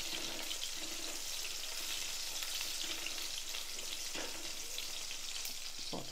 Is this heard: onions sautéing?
yes